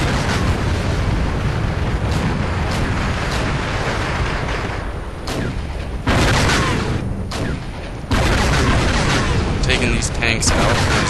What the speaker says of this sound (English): So I'm shooting up his AA guns